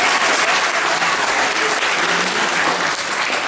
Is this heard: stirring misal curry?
no